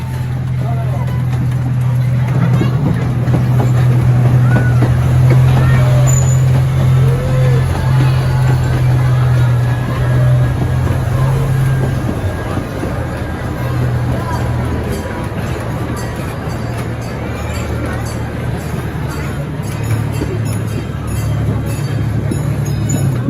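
A zoo train rolls through the Safari Land Tunnel at the Erie Zoo, a steady low rumble with a sustained drone of wheels and engine, under a guide's narration over a loudspeaker.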